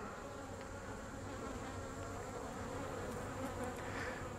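Honeybees buzz steadily around an open hive during an inspection of brood frames, a dense, continuous drone close to the listener with no pauses and no talk over it.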